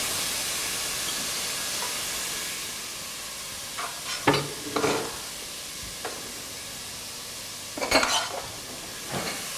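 Steady broadband hiss of meat sizzling as it is sautéed in a hot pan, with a few clinks and scrapes of a utensil stirring partway through.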